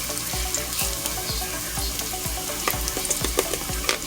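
Three large cloves of diced garlic and red pepper flakes fry in a pan with a steady, close, dense sizzle and occasional crackles.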